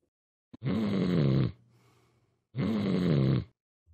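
Two loud, drawn-out snores about a second long each, separated by a quiet pause with a faint breathy inhale, sounding close and alone with no talk.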